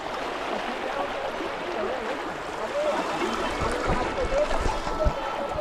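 Stream water flows and rushes steadily nearby, a continuous dense gurgling wash at an outdoor spot, with a few low thumps toward the end.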